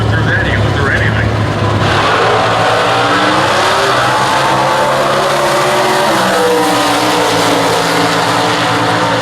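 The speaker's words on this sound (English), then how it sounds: "The supercharged dual overhead cam Coyote engine in the front of the 2014 Cobra Jet." A supercharged dual overhead cam Coyote engine in a 2014 Cobra Jet roars through a Factory Stock drag race at the US Nationals. The loud, sustained mechanical drone has a rising pitch and voices underneath it.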